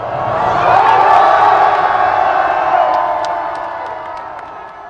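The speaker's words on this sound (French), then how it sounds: "la clameur de la foule" On the Champs-Élysées, a dense crowd cheers and shouts, the roar swelling to a loud peak early and then slowly fading, with scattered higher whoops and calls standing out near the end.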